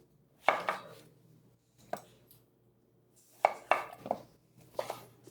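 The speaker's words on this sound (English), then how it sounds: "We have green beans and zucchini. I'm just going to cut off the ends." A knife trims the ends off green beans and zucchini on a cutting board, giving sharp, quiet thuds in small clusters separated by pauses.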